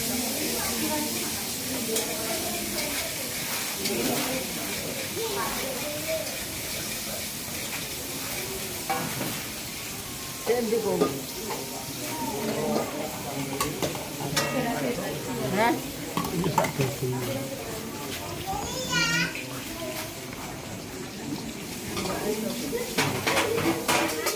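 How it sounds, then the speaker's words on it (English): Garlic sizzles steadily in hot oil for a stir-fried chicken noodle dish while a utensil repeatedly scrapes and stirs the pan, with some voices in the background. "First time, put the garlic on the fryer."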